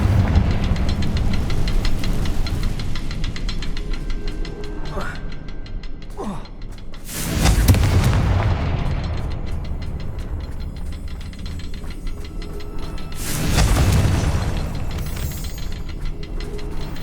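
Confringo fire spells exploding in Hogwarts Legacy, two loud broadband bursts several seconds apart over a busy bed of game effects and mechanical clatter, with a brief voiced gasp between them.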